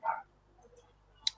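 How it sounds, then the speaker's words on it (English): A dog barks faintly in the background of a home during a lockdown-era online talk: a short bark at the start, a pause, then one sharp bark near the end. No one speaks. "my dog's barking like mad in the background"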